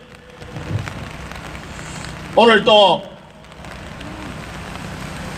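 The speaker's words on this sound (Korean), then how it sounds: "주말에 비가 오지만" Rain falls steadily during an outdoor political rally, a constant soft hiss of drops, briefly overlaid by a short spoken phrase through a loudspeaker.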